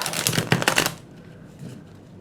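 Tarot cards riffled and shuffled by hand during a reading, a close, dense burst of rapid papery flutters lasting about a second, then near quiet.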